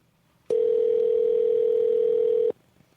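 An iPhone dial tone during an outgoing call sounds as one steady, even tone lasting about two seconds, close and clear, with quiet before and after.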